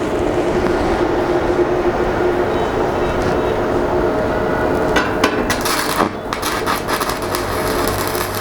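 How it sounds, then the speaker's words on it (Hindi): A MAG and arc combination welding machine lays an arc weld, producing a steady, close, harsh crackling hiss that runs without pause, with some brief sharper ticks partway through and no speech. "इस वेल्डिंग मशीन से आप आर्क कैसे कर सकते हैं।"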